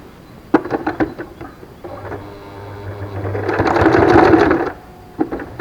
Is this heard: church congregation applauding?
no